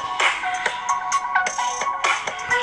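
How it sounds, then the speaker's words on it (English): Music plays from an iPhone 6 Plus sealed inside a Levin waterproof case, sounding slightly muffled, with a steady run of bright, rhythmic notes and beats throughout. "We're going to go ahead and play some music."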